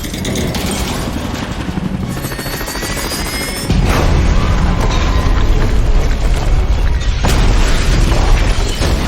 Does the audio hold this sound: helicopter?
yes